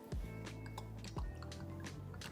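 Vegetable oil glugs and drips into a bowl in two short pours, close up and fairly quiet, with soft splashy plops.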